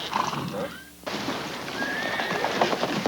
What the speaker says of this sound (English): The wrangler's still trying to catch his horse.